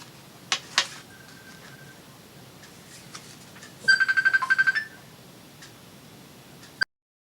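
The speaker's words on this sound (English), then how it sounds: "My phone rang." A phone rings with a short burst of rapid electronic trills, standing out clearly from a quiet room with a few faint clicks before and after.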